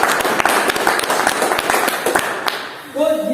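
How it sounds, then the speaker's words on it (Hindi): A meeting audience in Bongaigaon, Assam bursts into loud applause, a dense, close burst of clapping that runs for about three seconds before fading as a voice begins to speak. "जोरदार ताली हो जाए"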